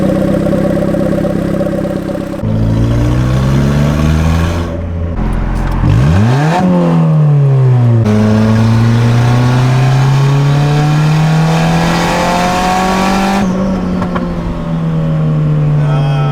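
A turbocharged Honda Civic engine with two-step launch control revs loudly and close, its pitch swooping down and climbing again before holding a sustained high rev.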